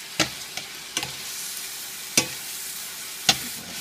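Pad Thai noodles cooking in sauce in a pan give a soft, steady sizzle, broken by a few sharp stirring scrapes.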